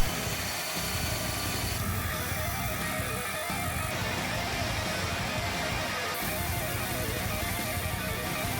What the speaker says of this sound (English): So first off, I'm just cutting out some pieces in acrylic